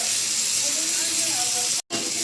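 Meat dropped into a hot pan for a Korean-style sambal daging topping sizzles loudly and steadily with a bright, constant hiss, broken by one brief moment of silence near the end.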